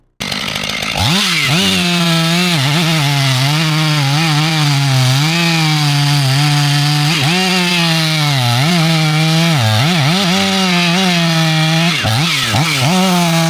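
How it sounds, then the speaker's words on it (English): A chainsaw roars steadily and loudly close by, its engine pitch dipping and rising repeatedly as it bites into a tree stump. "The sharp chainsaw has completed its mission."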